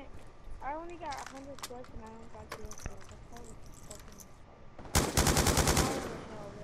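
Call of Duty: Black Ops 2 LMG fire arrives as a loud, rapid burst of automatic shots near the end, after a stretch of someone talking over faint game sounds.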